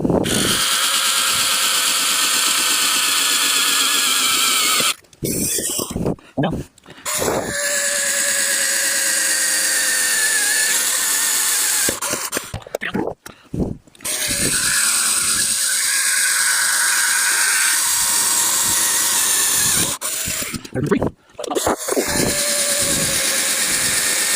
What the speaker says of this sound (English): that concludes the drilling of those holes